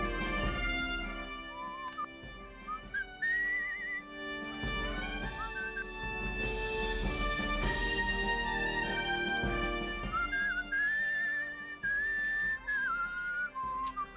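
Whistling in the video game Where The Water Tastes Like Wine plays as a melodic tune of sustained, wavering notes over a rich musical backdrop, running steadily throughout.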